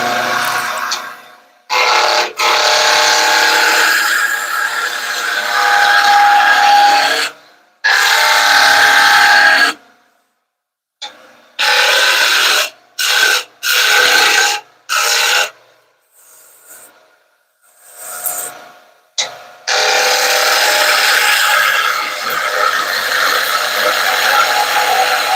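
A skew chisel scrapes and shaves a spinning wooden spindle on a lathe while turning a top, giving loud rasping bursts that start and stop in irregular runs with silent gaps.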